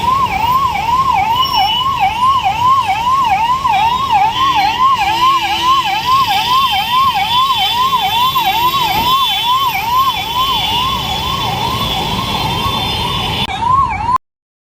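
Ambulance siren on a road in Telangana, wailing up and down in a fast, regular cycle. Loud and close, it sounds continuously for about fourteen seconds and then cuts off, with no talk.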